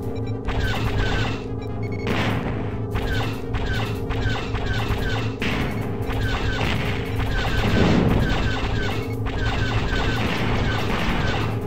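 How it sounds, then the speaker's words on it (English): Torpedo blasts in X-Wing vs TIE Fighter come as a dense run of sharp booms and crackling impacts over a constant engine drone, loud and continuous with repeated bursts. "here comes the wave of torpedoes again"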